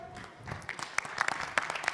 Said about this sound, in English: Give her a big round of applause as well.